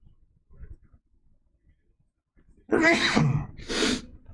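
After a near-silent stretch of faint shuffling, two loud bursts follow close together, a sharp sneeze and then a cough.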